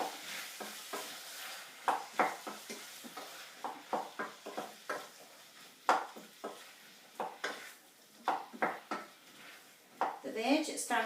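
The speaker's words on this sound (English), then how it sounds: "all I'm going to do now is just keep frying" Chilli beef and vegetables sizzle in a pan while a utensil repeatedly scrapes and stirs, producing irregular clattering strokes over a soft frying hiss.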